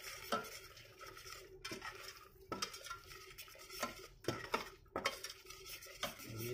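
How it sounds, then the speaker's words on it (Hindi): Vegan bean paste is stirred into Thai green curry in a pot, making repeated scraping and clinking strokes of a utensil against the metal in an uneven rhythm, close and fairly quiet. "इसको चलाएंगे।"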